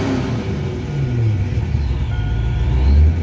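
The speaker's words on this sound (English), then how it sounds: "We'll give a wide open throttle rev." A car engine on a tuning session held at wide open throttle, a loud steady roar that climbs slightly and peaks near the end, heard close with no talking.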